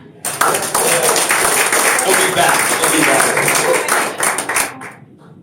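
Audience applause and clapping for a comedian at a comedy club, loud and steady for several seconds before it tapers off, with a voice speaking over it.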